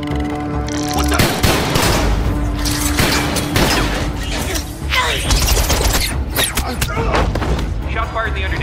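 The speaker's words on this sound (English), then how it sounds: "Shots fired in the underdeck. Repeat, shots fired." Gunfire erupts aboard Air Force One in a Transformers movie scene: loud, dense bursts of shots, booms and mechanical clatter mixed with voices and a dramatic score.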